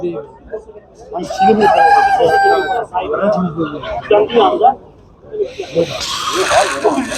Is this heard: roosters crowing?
yes